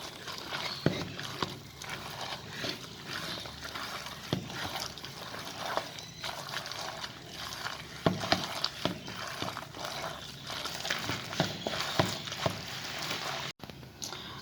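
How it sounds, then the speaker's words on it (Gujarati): Spinach and potato bhajiya batter mixed by hand, giving soft, wet squishing and stirring that stays quiet and continuous throughout. "હવે આ બધું આપણે મિક્સ કરી લઈશું હાથેથી"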